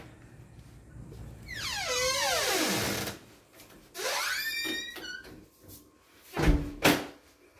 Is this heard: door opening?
yes